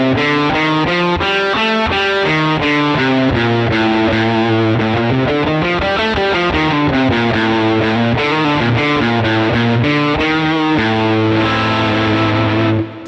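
A distorted electric guitar, with some chorus on it, plays the Locrian mode: a natural minor scale with a flattened second and fifth. The lines are fast and continuous, loud and with no speech, and the tone drops away at the very end.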